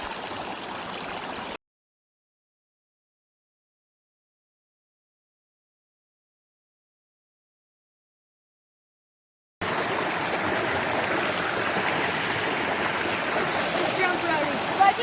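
Broadband rushing water from a wilderness river stream, steady and moderately loud, fills the opening seconds and returns after a long silent gap, with faint speech present.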